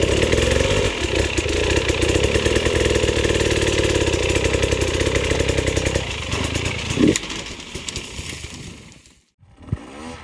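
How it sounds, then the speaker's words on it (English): A dirt bike engine idling in first gear on a downhill, given light blips of throttle: a steady, close, buzzing putter with small rises in pitch, which briefly drops away near the end before picking up again. "You can hear that even at the lowest, my RPMs on the bike never really get below idle."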